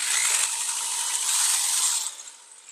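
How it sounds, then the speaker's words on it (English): A close, high-pitched whirring grind of a small drill biting into the metal primer pocket of a cartridge case for about two seconds, then winding down. "We're just going to drill out the primer pocket."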